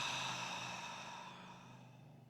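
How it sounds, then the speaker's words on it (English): One long, deep breath drawn slowly during a guided breathing exercise, close and steady, fading gradually over a couple of seconds with no talk. "And let's receive a breath."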